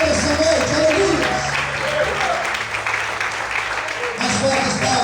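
A church congregation applauds loudly in a steady wash of clapping that fills the space, under a preacher's voice and music, easing slightly near the end.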